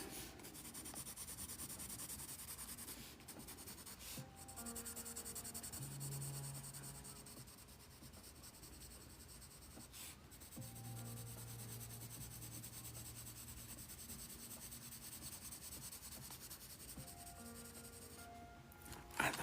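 Soft, quiet rubbing and scratching of colored pencils on paper in repeated short strokes, close up, with a faint hum underneath.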